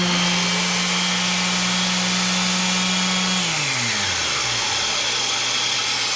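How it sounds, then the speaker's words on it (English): A Dewalt Stealthsonic shop vac runs hooked up to a sander in a workshop, giving a steady loud motor hum that drops in pitch and winds down about halfway through, with an airy rush continuing underneath. "the vacuum will come on"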